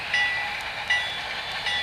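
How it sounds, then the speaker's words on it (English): Model railroad freight train pulled by two AC 6000 locomotives, a steady mid-to-high rumbling hiss with faint periodic clicks and a thin tonal whine, fairly loud and close. "train coming out here that will be a freight powered by two AC 6000s"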